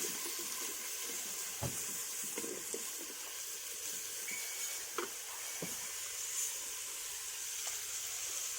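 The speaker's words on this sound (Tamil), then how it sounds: "வெங்காயம் போட்டு நல்லா கிளறி விட்டுக்கலாம்." Onions sizzle steadily in a pan after mustard seeds pop, with soft scraping stirs and light clicks over a constant frying hiss, near and moderately quiet.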